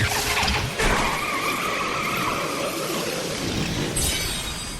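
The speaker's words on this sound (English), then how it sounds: "the Shiva sisters submit to your awesome demonstration of power and turn into a motorcycle" Final Fantasy XIII game sequence where the Shiva sisters transform into a motorcycle: a loud, steady vehicle-like roar with skidding, squealing tones throughout, fading slightly near the end, with no talking.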